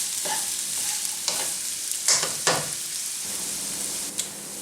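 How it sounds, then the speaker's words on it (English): Vegetables sweat in a pan for a minced beef, tomato and basil pasta sauce, giving a soft, steady sizzle with a few louder scrapes and clinks of stirring close by. "I'm just going to sweat these out, and I don't want them to caramelise"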